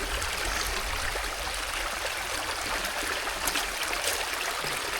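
Creek water rushes steadily while gold prospecting gear is washed out in a frozen northern Wisconsin creek, a close, continuous gurgling flow at moderate level with no one talking over it.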